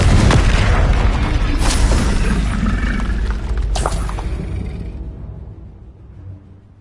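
A Confringo blasting spell from the Hogwarts Legacy video game lands as a heavy, booming explosion with rumbling low end and scattered crackles, then slowly dies away over several seconds.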